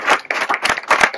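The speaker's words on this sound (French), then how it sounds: "On peut l'applaudir aussi pour remettre tous ces cadeaux." A few close, loud handclaps ring out in uneven bursts at an awards moment honoring farmers, crisp individual claps rather than a full crowd roar.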